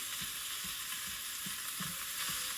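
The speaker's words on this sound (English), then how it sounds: "It has given off nearly all of the liquid. It's starting to fry." A pound of ground beef frying in hot oil in a pan, a soft steady sizzle with faint periodic scrapes of a spoon breaking it up, quiet and without talk.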